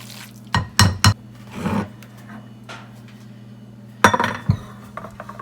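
Tuna cake mixture is stirred together in a bowl, with a few sharp clinks and scrapes of a utensil against the dish that come in short bursts separated by quiet pauses.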